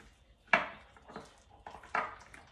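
A spoon mixes food inside a jar, close and fairly loud, giving a few sharp clinks and scrapes in an irregular rhythm, with quiet gaps between them and no talk.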